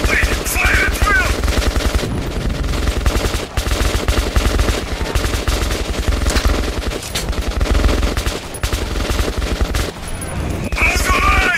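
Sustained automatic gunfire in the video game Metro 2033 Redux, dense overlapping bursts of shots crackling loudly without pause, with a faint shouted voice at the start and end.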